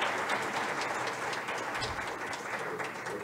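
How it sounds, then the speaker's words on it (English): Steady, dense applause fills the room from a conference audience after a technical networking talk, sustained at even loudness throughout with no speech over it. "a big round of applause"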